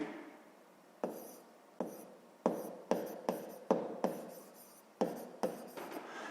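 Handwriting on paper while working a long-division problem for a sixth-grade math exercise, a series of short pen strokes and scratches in irregular bursts, close and fairly quiet, with no voices.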